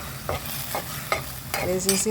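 Steady sizzling of boiled ivy gourd pieces frying in hot oil, broken by a few scraping stirs of a spoon against the pan.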